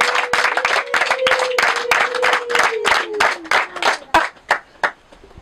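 A congregation in a church prayer room claps in steady rhythmic beats at close range, with a sustained sung or hummed tone running beneath the clapping, which thins out toward the end.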